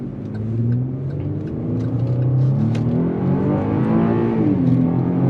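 A Chevrolet pickup truck's engine revs hard and accelerates, its deep rumble rising in pitch over several seconds, loud and close with no voices.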